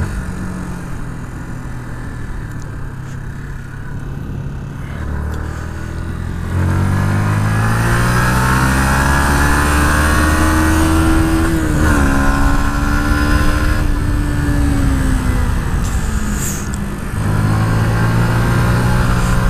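Yamaha MT-125 motorcycle accelerating hard on the road, loud and close, its engine note climbing through several gear changes with brief dips between rising revs.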